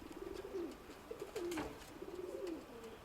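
Soft, low pigeon cooing repeated several times against faint background noise, with a brief rustle partway through.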